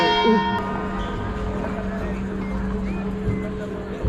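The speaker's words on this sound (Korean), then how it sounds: "8시를 알리는 종소리" Bells of Málaga Cathedral ring eight o'clock; one clear strike opens, then its tones hum on over open-air city ambience with a faint murmur of voices.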